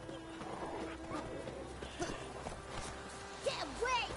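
Rhythmic clip-clop of horse hooves with a whinny near the end, against a steady game ambience, in the video game The Witcher 3: Wild Hunt.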